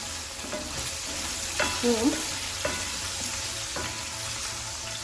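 Meat frying in oil, a continuous close sizzle with a few sharp stirring scrapes and clatters; a voice briefly speaks once.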